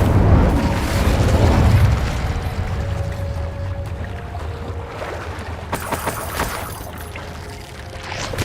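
A fiery Incendio spell bursts with a loud, rushing whoosh and boom in Hogwarts Legacy, the blast swelling in the first two seconds and then trailing into a crackling, rumbling tail of game effects.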